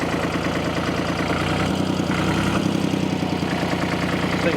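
A 1957 Porsche P133 diesel tractor idles low after being throttled back, its engine chugging in a steady, rapid pulsing rhythm close by, with no voices over it.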